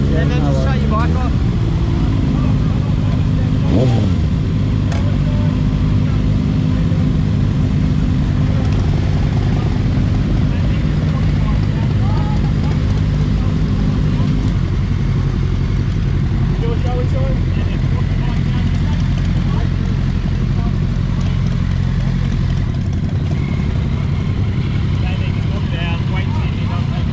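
Motorcycle engines idle and rev loudly and continuously at an outdoor bike meet in Brisbane, a steady dense roar with occasional rising revs, while people talk nearby.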